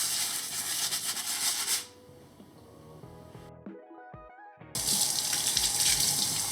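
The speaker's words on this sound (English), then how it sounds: "And a rinse under lukewarm water." Lukewarm tap water runs into a sink while a beeswax food wrap is rinsed, a steady splashing stream that cuts off mid-clip, leaves a few quiet clinks, then resumes strongly.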